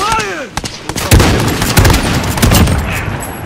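Loud, close gunfire in a Call of Duty: Modern Warfare 2019 team deathmatch on the Hovec Sawmill map, with rapid overlapping shots and booming reports filling the whole moment without a break.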